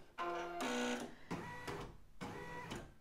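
An embroidery sewing machine trims its thread with a few short mechanical whirs and clicks in bursts, close and fairly quiet, with no talking.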